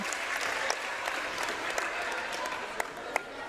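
Gym bleachers fill with a continuous ripple of clapping as an injured player rises at a seventh-grade boys basketball game, mid-distance and even, with a few crisp claps standing out near the end.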